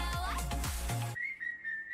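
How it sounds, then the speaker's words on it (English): A sustained, steady whistled tone follows a burst of thumping music, holding one clear high note to the end, in a K-pop song. "Yeah, we did because I remember the whistling."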